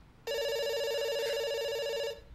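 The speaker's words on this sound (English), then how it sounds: "It's ringing." Electronic telephone ringing inside a video game, one sustained tonal ring lasting about two seconds, clear and close with no talk over it.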